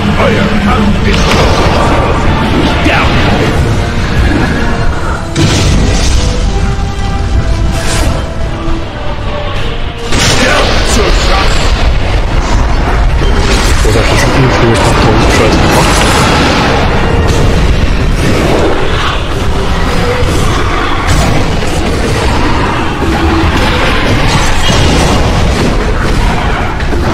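Loud, dense booming blasts and crackling bursts of explosions in Neverwinter roll on continuously with a heavy low rumble and busy mixed effects throughout.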